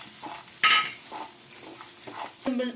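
A spoon scrapes and stirs through a thick green gram laddu mixture in a pan, with soft scattered clinks and a light sizzle, close by and fairly quiet.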